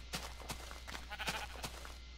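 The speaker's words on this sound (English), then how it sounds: "Sheep?" Sheep bleating in the Minecraft video game, several short bleats repeating at an irregular pace, fairly close and clear over a steady low hum, with no speech.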